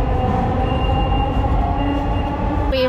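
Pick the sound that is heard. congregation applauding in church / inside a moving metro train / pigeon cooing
inside a moving metro train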